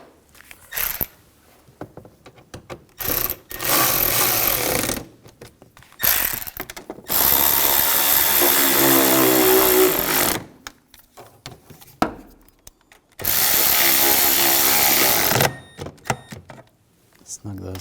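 Short bursts of a power drill tightening bolts on the starter of a 2007–2013 BMW X5 with the 3.0L inline-six, several loud whirring runs separated by pauses and brief clicks of mechanical handling.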